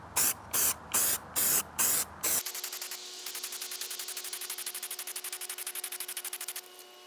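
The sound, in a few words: spraying Rust-Oleum mirror effect silver spray paint on glass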